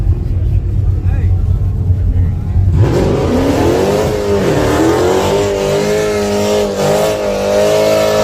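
A car engine idles low, then revs up sharply into a loud, sustained roar that rises and falls, close by, at a car race.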